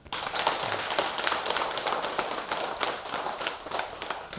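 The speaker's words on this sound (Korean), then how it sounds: "박수 한번 치십시오" A temple congregation at a Buddha's Birthday dharma service claps together, a dense, steady patter of many hands filling the hall for several seconds with no voices over it.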